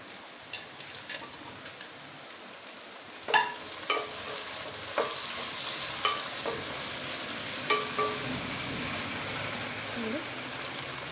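Paneer frying and being stirred in a pan with tomato added for paneer biryani: a soft steady sizzle with scattered clicks and scrapes of the spoon, while a person talks over it.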